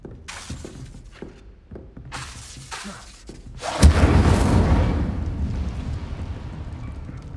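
In Hogwarts Legacy an Incendio fire spell goes off with a loud crackling burst and whoosh of flame, preceded by several smaller magical clicks and cracks, then a roaring blaze that lingers and fades.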